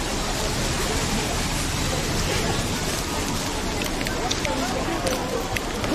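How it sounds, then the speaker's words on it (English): Rain pours down in a dense, continuous hiss with scattered patters and drips on surfaces nearby, steady and loud throughout, in Japan. "it's raining now as well."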